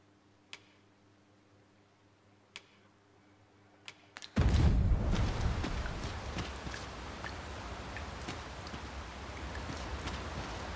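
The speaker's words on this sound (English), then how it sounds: "'Tis raining." Rain sets in suddenly in Dragon's Dogma 2 after a few isolated ticks, becoming a steady dense patter of drops on surfaces that continues loudly to the end.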